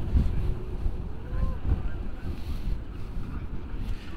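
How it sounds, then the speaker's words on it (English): Strong cold wind buffeting an outdoor car meet, a loud rushing roar with gusty microphone rumble throughout, and faint voices mixed in underneath. "It's really cold today and really windy"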